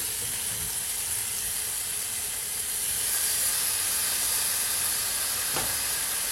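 A beef roast sits in a hot pot and gives off a loud, continuous hiss and sizzle that stays steady and even throughout, close to the microphone, with no voices.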